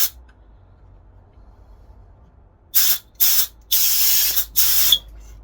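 Air blown through a passage of a Hitachi carburetor from a Yamaha XV1000, heard as four sharp hissing bursts of varying length close by after a quiet pause.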